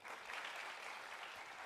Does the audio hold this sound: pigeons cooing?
no